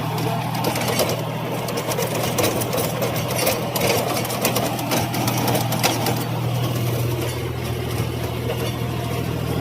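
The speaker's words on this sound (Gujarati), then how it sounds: "આપણું ટ્રેક્ટર ચાલુ જ છે બંધ કરી નહીં" A farm tractor's engine keeps idling in a field during guar sowing, a steady close mechanical drone with a constant low hum and rattling texture running unbroken throughout, no talk over it.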